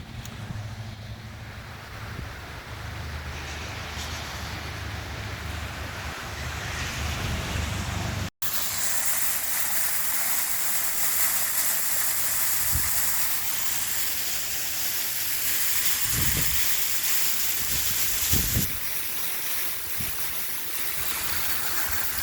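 Water dumped from a container rushes and spreads across the ground outdoors near a shed, a steady broadband wash with breeze and wind buffeting on the microphone, a brief cutout midway and a few low thumps later.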